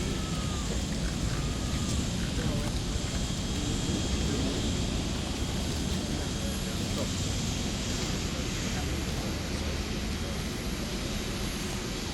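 An Emirates airliner lands at Entebbe International Airport, its engines a loud, continuous broadband roar and rumble that holds steady throughout, close and dense, with no clear voices.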